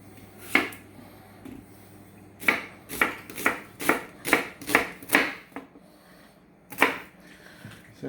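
A knife chops through an onion on a cutting board in about ten sharp, close thuds, a lone stroke, then a rapid cluster, then one more, with no talking.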